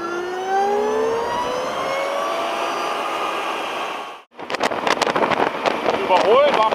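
A Zero electric motorcycle pulls away with a rising, whining electric motor tone that climbs steadily, broken by a brief drop to near silence before rougher, gusty road and wind noise takes over.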